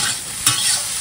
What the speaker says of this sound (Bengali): আর এখানে কুমড়ো আর বেগুনটা ভাজা বসিয়েছি